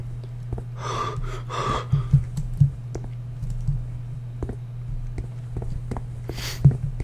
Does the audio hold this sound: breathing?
yes